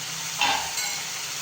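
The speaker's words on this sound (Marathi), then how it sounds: "आता गॅसची फ्लेम मी मोठी करते कारण आपल्याला हा टोमॅटो छान परतवून घ्यायचा आहे" Tomato sautés in a pan over a high flame, a close, steady hiss with a brief louder sizzling swell as it is stirred.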